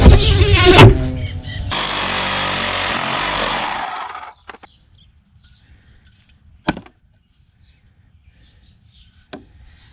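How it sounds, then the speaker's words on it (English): A saw cuts into an old cedar bench board damaged by carpenter bees, a loud harsh burst of about four seconds, then near silence broken by two sharp clicks or taps. "start sawing it into pieces"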